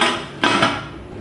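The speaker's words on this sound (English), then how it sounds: "I'm going to place the lid." A metal lid is set onto a pressure cooker in a home kitchen while mutton biryani is being made, giving one or two sharp clanks that ring briefly, close and fairly loud.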